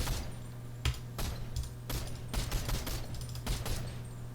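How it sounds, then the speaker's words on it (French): Automatic gunfire in a video game, played with keyboard and mouse: rapid bursts of shots over a steady low hum, the sharpest cracks standing out at irregular intervals. "C'est en train de tirer automatique."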